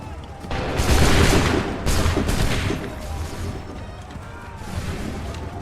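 Musket volley fire in Assassin's Creed III: a loud, dense crackling burst of many shots at once, then a second volley and a fading rumble of scattered reports.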